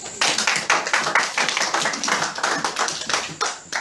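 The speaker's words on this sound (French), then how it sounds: "Applaudissons pour lui." An audience applauds a participant at a gathering on marriage, dense, fast clapping that holds steady and fairly loud for a few seconds with no voices over it.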